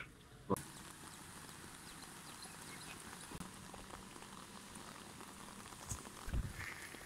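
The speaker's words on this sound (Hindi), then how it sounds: "बारिश हो रही है" Steady rain patters down in a continuous soft hiss, with a few louder thumps and knocks breaking through now and then.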